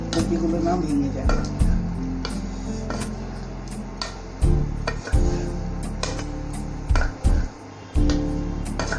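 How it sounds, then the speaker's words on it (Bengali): Fried cauliflower pieces being stirred gently through gravy in a pan for fulkopi rezala, giving soft scraping and clinking taps at irregular intervals over a steady background sizzle, with a voice speaking throughout. "আস্তে হাতে নাড়বেন, কপিগুলো না ভেঙে যায়।"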